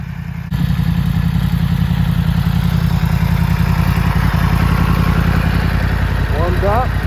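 A warmed-up Yamaha MT-10 motorcycle with its stock exhaust idles loud and close, a steady low throbbing rumble that starts abruptly and holds evenly throughout.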